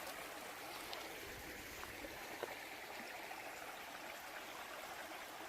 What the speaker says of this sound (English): this is the creek in front of it, which I assume is Birch Run